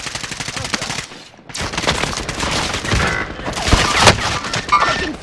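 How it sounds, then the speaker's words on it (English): Sustained automatic gunfire in the video game Call of Duty Warzone, dense rapid bursts that drop out briefly near one second, then resume loud and continuous with a heavier swell toward the end. "Taking fire here"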